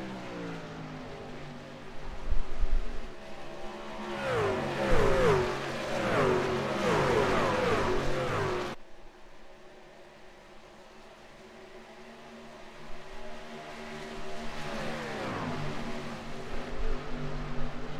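SERL race trucks at Atlanta roar past with rising and falling engine whines that sweep in pitch, loud through the first half, then cut abruptly to a softer drone before another pack swells in.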